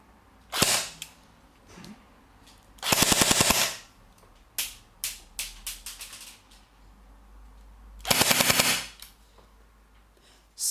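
Full-auto fire from a Force Core Spectre airsoft SMG with a weak motor comes in short, loud bursts of evenly spaced rounds, separated by quiet gaps and a few single clicks of the mechanism.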